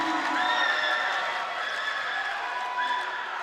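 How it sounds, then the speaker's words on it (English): A high school basketball crowd at W.F. West versus Shelton roars in a sustained, loud wash of cheering after a made three-pointer, steady throughout without letting up. "Gets the crowd on their feet."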